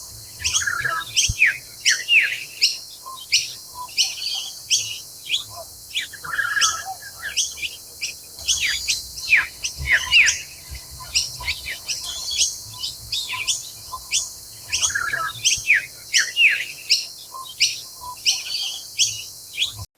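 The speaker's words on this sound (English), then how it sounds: "this year we had 5 pairs of fig birds nest in these 2 trees" Figbirds call again and again from two backyard trees where several pairs nest, their sharp chirps and tweets coming in dense, overlapping bursts. The calls sound fairly close and carry steadily from start to finish.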